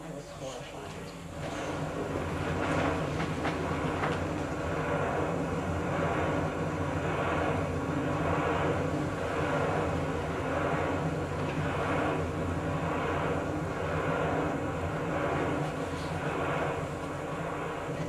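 A continuous low mechanical drone from wind turbines hums through the whole stretch, with faint rhythmic whooshing pulses repeating every second or so.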